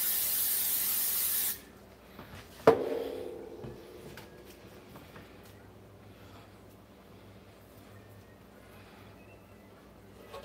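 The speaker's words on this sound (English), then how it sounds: "Get this pan. I need to spray it." Cooking oil sprays onto a grill pan in one loud, continuous hiss lasting over a second, followed by a clunk as the pan is handled, then quiet kitchen background.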